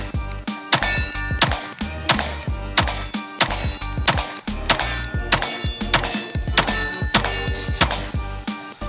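Rapid string of handgun shots firing a 16-round magazine with an OLIGHT red dot sight, loud sharp cracks in quick irregular succession, close and dominant throughout.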